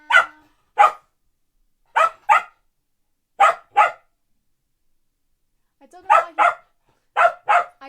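A dog barks in short paired bursts, loud and close, with pauses between pairs, during a livestream of Phoenix Wright: Ace Attorney; a person speaks briefly.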